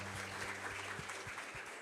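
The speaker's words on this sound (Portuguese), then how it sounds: "Aplauda o Senhor pela vida dela." Congregation applause at a church celebration service, a steady wash of clapping from a crowd, fairly soft and distant, with a low organ-like hum held underneath.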